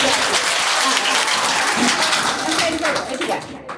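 An audience claps steadily at a school event, dense broadband applause that holds throughout and thins out near the end.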